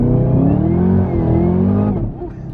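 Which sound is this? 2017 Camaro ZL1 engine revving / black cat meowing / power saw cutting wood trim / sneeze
2017 Camaro ZL1 engine revving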